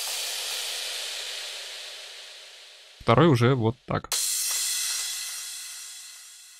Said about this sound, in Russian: На очереди у нас крэш.